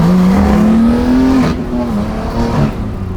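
A BMW G80 M3 and an Audi RS3 race from a 40 mph roll, loud engines roaring close with a rising then easing pitch over road noise.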